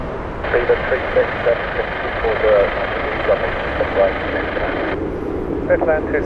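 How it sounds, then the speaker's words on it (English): A British Airways Boeing 787-8 on final approach to land at Heathrow gives a steady, broad engine roar that holds for several seconds at moderate distance, with a person talking over it throughout. "this time the Chennai flight with British Airways. This is the 787-8"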